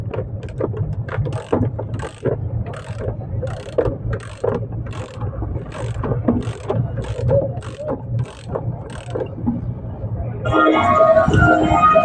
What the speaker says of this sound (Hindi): जिसका फैन का शेफ्ट है वो शेफ्ट बैंड घूम रहा है, इसीलिए टर्बो का आवाज़ आ रहा है।